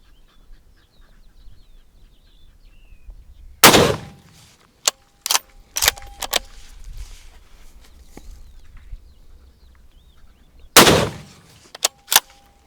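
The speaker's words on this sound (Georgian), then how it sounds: "მესამე გასროლა." Istanbul Silah Monza .308 caliber rifle firing at an outdoor range, two sharp, loud shots several seconds apart, each followed by rolling echo, with scattered clicks and handling noises between them.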